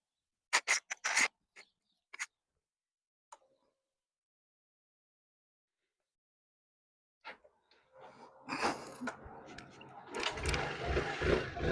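An Arome 125 motor scooter being started after sitting unused with a weak battery: a few scattered clicks, a pause, then the engine catches and settles into a steady, rising running noise, with no talking.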